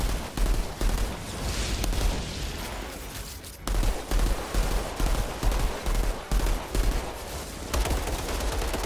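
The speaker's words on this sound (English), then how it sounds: "we're gonna unload every bullet we have, basically." Rapid bursts of automatic gunfire loaded with incendiary rounds in a video game, dense repeated shots in several runs separated by short pauses, loud and close.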